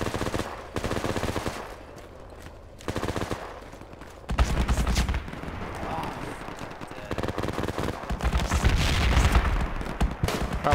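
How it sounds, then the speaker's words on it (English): Game gunfire in Project Reality, a counter-terrorism round with a BMP laying suppression fire on a mosque, rattles in dense, loud automatic bursts and heavier booming shots, while voices talk over the combat. "BMP, suppression fire on mosque."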